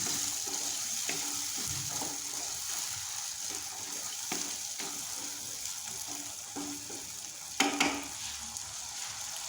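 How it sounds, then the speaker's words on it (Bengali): Hyacinth bean seeds fry in a pan with a steady sizzle while a spoon stirs them in soft, repeated scrapes and taps, heard close with no talk. "কষানোর পর এখন আমি দিয়ে দিচ্ছি সিমের বিচি। এখন নেড়ে চেড়ে দিচ্ছি।"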